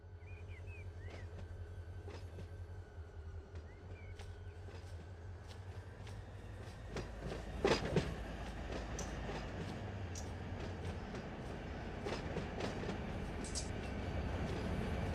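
A freight train in the Run 8 simulator moves boxcars, with a low rumbling engine drone, occasional clanks and a louder jolt midway, then rolling rail noise building toward the end; quiet overall, no talk.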